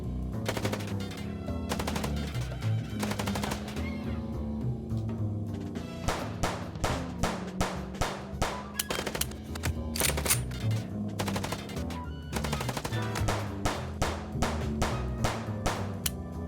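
Gunfire in the video game Chicken Police: loud rapid bursts of shots that repeat in volleys over a steady background of game sound, with brief breaks between strings of fire.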